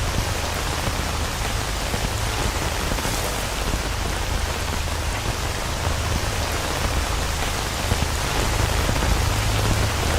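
Steady heavy rain in the S.T.A.L.K.E.R. Anomaly game, a dense, loud, even hiss of drops on surfaces that holds constant throughout with no gaps.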